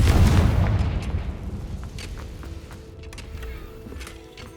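A Confringo fire spell explodes in Hogwarts Legacy with a loud, deep boom that decays into a rumbling tail, with faint mechanical clicks and creaks after it.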